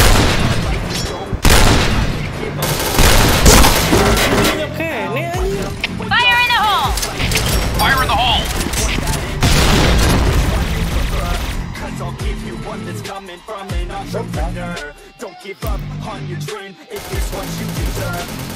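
Grenade blasts and rapid gunfire in the shooter game Point Blank, dense booming bursts and clattering shots throughout, with voices talking over the action.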